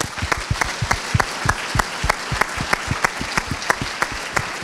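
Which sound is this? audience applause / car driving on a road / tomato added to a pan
audience applause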